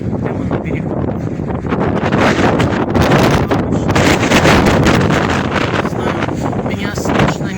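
Strong wind on a seaside boulevard by the sea roars and buffets the microphone with a loud, rough rumble that surges in gusts and never lets up.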